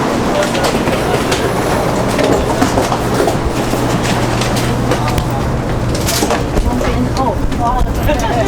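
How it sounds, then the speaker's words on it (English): A Taiwan High Speed Rail bullet train rumbles steadily along at speed, with a constant loud roar, a low hum and faint clatter from the wheels; no one speaks. "This is the bullet train here in Taiwan"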